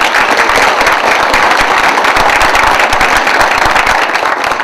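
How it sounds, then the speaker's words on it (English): Applause from the audience at a 21st-century learning panel discussion, a dense, steady wash of clapping that stays loud and even for the whole stretch with no voices over it. "how about a round of applause for Kim?"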